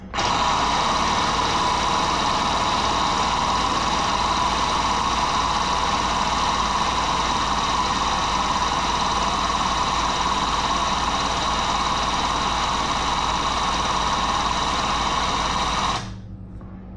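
An air-over-hydraulic pump drives the jaws of a hydraulic crimper with a steady, loud mechanical buzz and whine that runs unbroken for about sixteen seconds, then cuts off abruptly into a faint hum.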